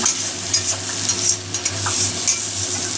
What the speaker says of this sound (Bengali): তো এবার এটাকে আমি পুরোই ভাজা ভাজা করে নেব